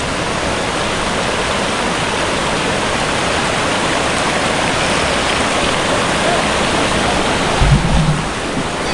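Steady rushing roar of river water flowing, a continuous broadband wash that stays close and even throughout, with a brief low bump near the end.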